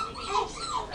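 A pet dog at home makes a short, close vocal sound, a whiny yip or bark that rises and falls over about a second, heard alone without talk.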